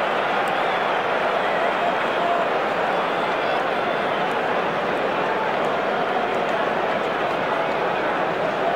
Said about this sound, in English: The crowd settle back in their seats.